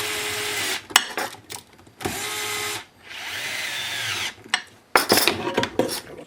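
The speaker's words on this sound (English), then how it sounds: "We'll go ahead and give this a little bit of a tightening." A power drill or driver runs in sustained bursts while tightening nuts onto lithium-ion battery pack terminals, whirring on and off with short pauses and sharp clicks and clatter between runs, close and fairly loud.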